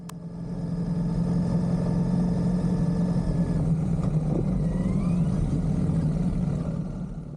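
A group ride of around forty 350cc motorcycles on the way to Umling La in the Himalaya, engines running together in a steady, loud, continuous drone that holds for the whole stretch with no voices.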